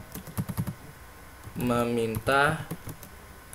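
Quick clatter of computer keyboard keys while C++ code is typed, a short run of keystrokes before someone speaks briefly, with a few more taps around his voice.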